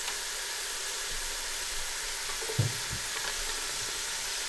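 Garlic going into golden onions frying in a pan gives a constant hissing sizzle, broken by a brief knock and a few soft stirring scrapes midway through.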